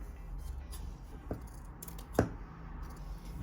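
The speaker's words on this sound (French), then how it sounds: "Alors je coupe l'excédent." Scissors snipping off excess netting fabric for a sewing project, two short crisp cuts, the second louder, close up in a quiet room.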